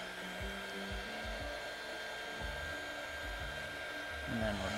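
A hair dryer blows steadily and close for the whole stretch, drying alcohol ink art painted on a window pane, with some faint talk beneath the whir.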